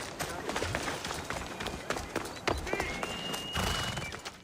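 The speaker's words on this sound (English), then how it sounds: "Whilst Cassandra is riding this horse" A horse gallops in the Assassin's Creed Odyssey video game trailer, rapid hoofbeats thudding in an uneven rhythm under someone talking over the game footage.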